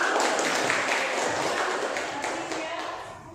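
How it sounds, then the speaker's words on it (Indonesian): Schoolchildren in a classroom applaud a classmate with a dense, busy patter of small hands that starts loud and slowly fades toward the end, with some voices blended in. "Silakan anak-anak beri tepuk tangannya terlebih dahulu."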